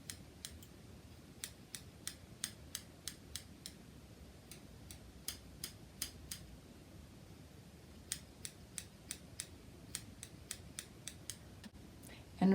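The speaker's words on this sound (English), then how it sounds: "the feather technique is just tiny little snips going one way and then changing the angle of the scissors" Crisp scissor snips cutting hair in quick bursts of several tiny cuts, pausing between runs as the angle changes, close and fairly quiet over a soft low background hum.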